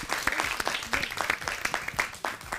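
A group of children applaud a classmate with quick, uneven clapping that carries on for a couple of seconds, loose and scattered rather than in unison.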